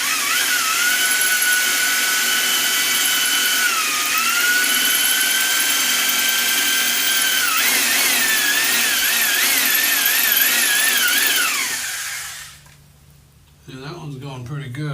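A power drill bores a hole into hard stucco for a doorbell install, a loud, close, steady whine that wavers in pitch as it bites, then stops abruptly before a brief restart.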